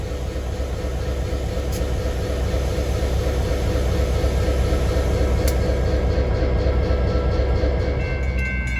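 A GP38-2 diesel-hauled freight train rumbles steadily past at close range, a constant heavy roar of rolling wheels and engine with faint metallic squeals above it.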